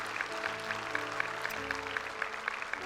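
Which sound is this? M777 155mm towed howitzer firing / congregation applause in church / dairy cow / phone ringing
congregation applause in church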